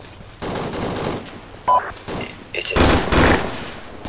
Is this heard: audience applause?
no